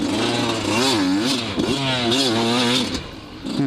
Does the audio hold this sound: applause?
no